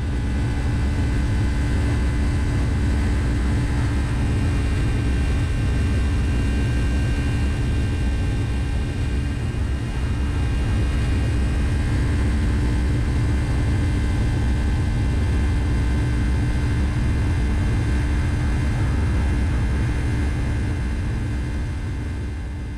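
A Cargojet Boeing 757 cargo jet takes off on runway 27: a loud, steady jet engine roar with a deep rumble and whining tones holds at full power throughout, easing slightly at the very end.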